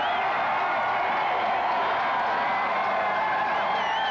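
A huge crowd of hockey fans celebrates in downtown streets after a Canucks playoff win, a dense continuous roar of voices with whoops and scattered whistles.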